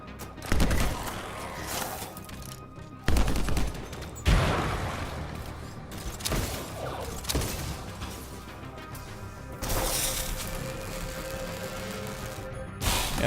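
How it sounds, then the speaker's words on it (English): Weapons fire in the video game Anthem: heavy bursts of gunshots and explosive impacts arrive in loud, uneven clusters, with rapid volleys and booming crashes separated by short lulls of lower game noise. "Oh, I need to zoom in to shoot."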